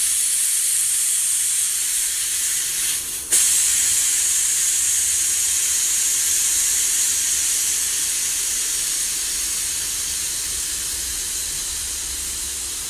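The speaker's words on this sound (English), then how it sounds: "Release the pressure." Pressure cooker releasing steam after cooking a green chilli dip, a loud continuous close hiss throughout with one brief dip near the start, slowly easing off toward the end.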